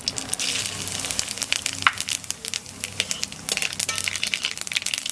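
Cumin seeds sizzle and crackle in hot oil in a home kitchen while a fish curry is prepared, a constant close frying hiss dotted with sharp pops.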